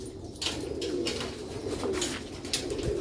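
A pigeon coos close by, low throaty rolling calls repeating in a slow rhythm over faint background noise.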